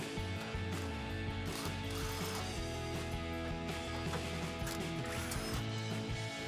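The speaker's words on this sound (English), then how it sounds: "Next, we can grab a 10 millimeter socket for our two bolts holding in our hanger." A 10 mm socket ratchet clicks away at exhaust hanger bolts on a 2021-2024 Ford Bronco during a cat-back exhaust install, quick metallic clicks and light tool clatter close by, fairly quiet, with no talking.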